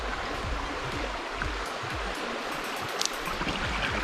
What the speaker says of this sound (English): Wash off the peas.